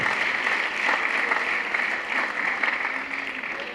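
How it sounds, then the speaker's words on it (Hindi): An audience at a Jain religious discourse claps steadily for a few seconds, a dense, even wash of hands in a hall with no voices over it. "तालियां तो बजा ली"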